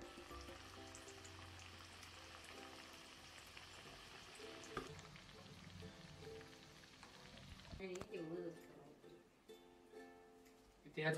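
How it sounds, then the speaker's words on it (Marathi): Chakli, a spiral snack made from bhajani flour, frying in hot oil with a soft, steady sizzle under quiet talk and occasional clinks of a utensil near the end. "आता या झालेल्या चकल्या आपण तळून घेऊ."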